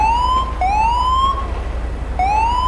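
A black-and-white Charger police car runs a siren test, sounding a loud, close rising wail that repeats about three times.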